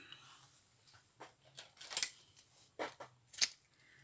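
Scissors snip through fabric while sequins are being sewn onto a blanket, giving a few sharp, crisp cuts at close range against a quiet background.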